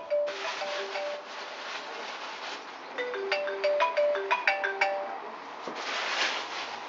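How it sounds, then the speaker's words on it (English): A mobile phone ringtone plays a bright, repeating melodic pattern indoors in a 2013 Adria Altea Trent touring caravan, fairly quiet, and swells into quicker notes partway through. "Please excuse my phone."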